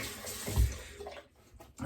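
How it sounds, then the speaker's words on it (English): Tap water running at a bathroom sink during a wet shave, a faint steady wash with a brief louder splash, close by and alone with no voices. "I have the water running"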